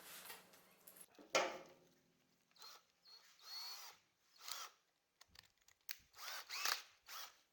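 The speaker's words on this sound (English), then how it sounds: "I'll drill the hole a little bit smaller than the actual diameter of the bolt" A power drill whirs in several short bursts separated by pauses, drilling a bolt hole in electrical conduit, with clicks and handling noises between runs, close by.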